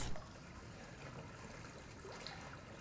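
Wading through sewage water in the horror video game Resident Evil 7, a faint, continuous trickling and sloshing of liquid that stays low and even with no talk.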